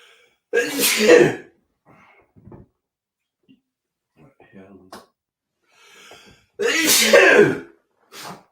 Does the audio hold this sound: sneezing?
yes